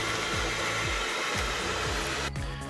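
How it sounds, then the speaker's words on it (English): A hairdryer runs continuously at close range, warming Sikaflex sealant during a DIY van conversion, with a steady whirring blow and faint periodic motor tones, no voices. "Okay, so I've now been putting the hairdryer on"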